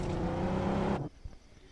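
Vehicle engines in the BGMI battle royale game, a steady droning motor sound for about a second before it cuts off abruptly, leaving faint scattered noise.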